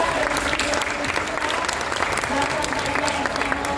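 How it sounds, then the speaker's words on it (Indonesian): Audience applause at a presidential candidates' economic dialogue in Indonesia, steady close clapping from a seated crowd with some voices mixed in. "jadi kita mau minta tepuk tangan yang luar biasa"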